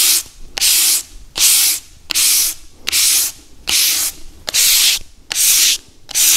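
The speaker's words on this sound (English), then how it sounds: "You sand straight with the grain." Hand sanding a red oak bowl straight along the grain with the lathe switched off: eight steady, even back-and-forth rasping strokes, close and loud, with brief pauses between each pass.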